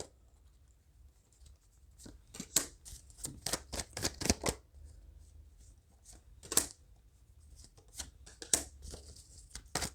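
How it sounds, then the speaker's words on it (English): Tarot cards are shuffled by hand in quick, irregular bursts of crisp riffling and slapping, close and fairly quiet, with short pauses between flurries. "cards just flying everywhere"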